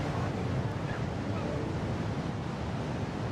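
Ocean waves break at the Pipeline surf break in Hawaii during a pro surfing contest, a continuous broad roar of surf and wind at moderate loudness.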